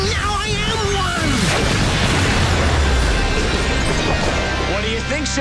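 Massive cartoon-action explosion from a villain's final attack in a Power Rangers Super Ninja Steel battle, one long, loud, rumbling blast that fills the whole stretch with dense roaring noise, with character voices heard over it.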